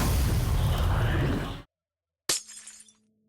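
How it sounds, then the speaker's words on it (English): A section of Minecraft music track 5 played in reverse gives a loud, dense crashing burst like shattering glass, then a pause and a second sharp smashing hit that tails off into ringing tones. "it sounds like breaking glass."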